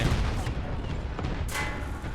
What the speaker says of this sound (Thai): กดสเปซบาร์จะยิงปืนกลนะ